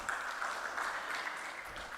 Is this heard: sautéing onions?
no